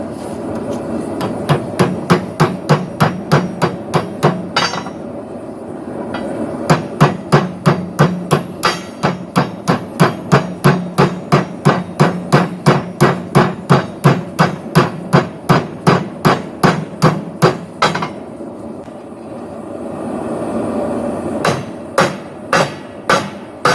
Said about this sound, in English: now I'm going to use my hammer here to basically close this.